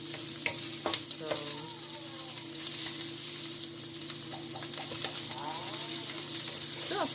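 Baked ziti sauce stirred in a pan: a soft, continuous sizzle with light scraping stir strokes and occasional clinks, and faint background sounds behind the stirring.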